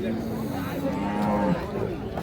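A Jersey dairy cow gives a single long, low moo close by, lasting over a second, with farmyard murmur behind it.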